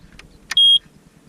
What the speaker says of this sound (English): Well, it beeps. That means something.